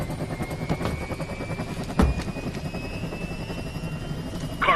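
A helicopter lifts off in the video game Metal Gear Rising, its rotor a steady, loud droning whir with a rising whine and a couple of sharp clanks, no speech.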